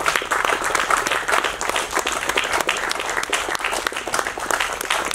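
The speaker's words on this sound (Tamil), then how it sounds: "இன்னும் கரகோஷம் வேணும்" Audience applause at an award ceremony honouring a recipient on stage, a continuous crackle of many hands clapping at moderate volume, steady and dense throughout.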